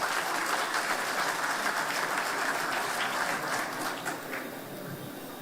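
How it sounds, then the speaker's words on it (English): Sustained applause from a large conference audience at a water industry exposition in the Philippines, a steady dense clapping wash that holds throughout and eases slightly toward the end. "Round of applause, everyone."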